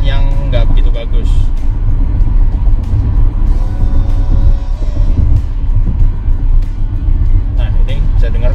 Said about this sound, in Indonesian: Nah ini bisa dengarkan suara noise dari ban kalau lagi lewat jalan yang lagi bumpy